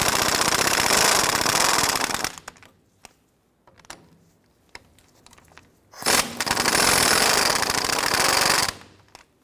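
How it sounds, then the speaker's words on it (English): An impact gun with a 15mm socket loosens the adjuster sleeve nut screws on a 1993-1997 Ford Ranger tie rod, rattling in two loud, close bursts of a couple of seconds each, separated by quiet handling clicks. Nobody speaks. "Loosen the adjuster nut screws using a 15mm socket."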